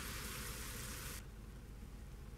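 Steady hiss of rain in a truck-driving video game, dense and broadband at first, then thinning to a softer patter about halfway through; no voices.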